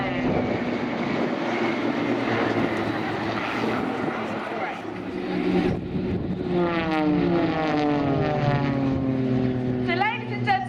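Blades aerobatic display team aircraft flying at the Shoreham Airshow, a steady propeller-engine drone with pitch sweeping up and down as the planes manoeuvre, heard continuously at moderate distance under a commentator's voice.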